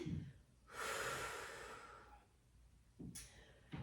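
Quiet breathing during a lying hip stretch: a soft breath, then a long, airy exhale, followed by another short breath near the end.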